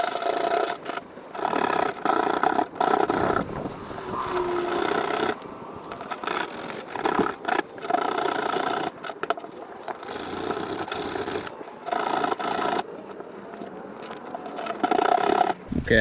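Rust is sanded off bubbled, chipped car paint, giving a steady close abrasive rasping that runs in bursts with brief pauses between strokes, loud and with no talk.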